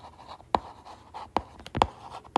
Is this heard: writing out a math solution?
yes